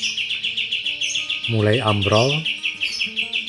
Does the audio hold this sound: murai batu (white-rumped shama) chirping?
yes